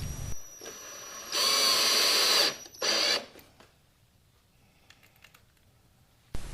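A power drill drives 1 1/4 inch screws to join wooden crates for a coffee table, sounding in two loud whirring bursts with a short pause between, then dropping to faint clicks and quiet before a final brief burst.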